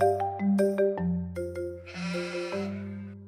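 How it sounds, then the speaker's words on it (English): A sheep bleats several times in a row, a clear, close, wavering call, with each bleat rising and falling. "Bleated the sheep."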